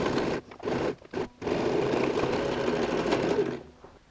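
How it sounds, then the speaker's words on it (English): A sewing machine runs a half-inch seam along the corners of a quilted toiletry bag, a close, steady mechanical whirring in short bursts, with brief pauses before one long continuous run that stops near the end. "We're going to go and sew a half an inch stitch."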